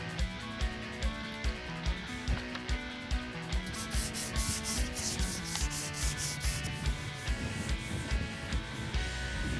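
Primer on a car part being hand-sanded with 400-grit sandpaper: steady, rhythmic back-and-forth rasping strokes, close and continuous throughout.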